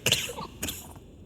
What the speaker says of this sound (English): instead coughed into her hand, making her palm and lips dirty